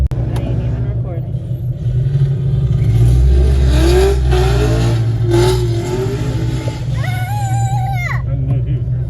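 Holden Commodore G8 and SS cars rumble and rev past in a street parade, a deep close engine drone swelling with rising revs and a brief whining tone near the end, with people talking over it.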